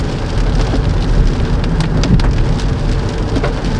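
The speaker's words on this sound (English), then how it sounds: "Yeah, because it's literally raining, right?" Steady heavy rain at a beach resort in Thailand, a dense constant hiss of drops on surfaces, loud and close, with a faint low rumble underneath and no voices.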